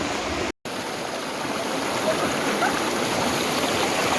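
River beside a hill hiking trail in Kota Marudu, a steady, close rushing flow of water with one brief dropout near the start and no talk.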